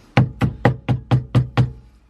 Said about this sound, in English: We'll give it a tap with this, see if it knocks it through.